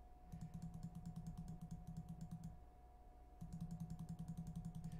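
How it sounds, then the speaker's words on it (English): A computer mouse clicks rapidly and evenly in two bursts while playing Princess Connect Re:Dive on PC, faint and close, over a low steady electrical hum, with no talking. "Just keep clicking. Click this. Equip. Click this. Equip."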